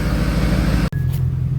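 A Mercedes CLK55 AMG idles steadily with a deep, rumbling engine note as it reverses after a cold start, close and loud, with a brief dip in sound partway through.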